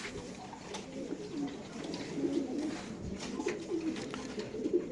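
Racing pigeons at a pigeon market coo repeatedly, soft rolling calls close by over a low murmur of background crowd noise.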